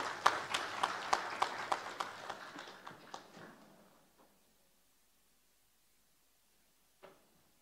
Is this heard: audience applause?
yes